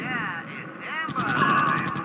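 Units open fire in the strategy video game RUSE: a rapid rattle of gunfire bursts breaks in after a radio-style voice report, loud and continuous under lingering electronic tones.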